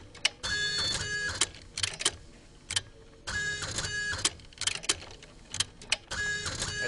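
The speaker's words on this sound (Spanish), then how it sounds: "El polígrafo dice clarísimamente por todos los ruidos que escuchamos." A polygraph machine prints in loud, mechanical bursts of rapid chattering, stopping and starting in several runs during a questioning session.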